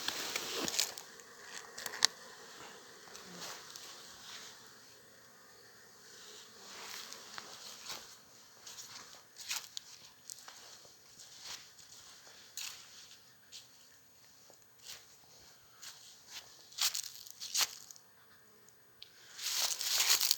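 Honey bees buzzing around a hive during a cleansing flight, a soft continuous hum with scattered sharp crackles and taps close by, no talking.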